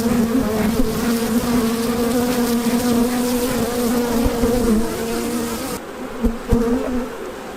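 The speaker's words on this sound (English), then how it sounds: "That is a massive amount of bees." A dense swarm of honey bees buzzing loudly and steadily up close during a spring hive check, a thick droning hum that briefly softens near the end, punctuated by a few knocks.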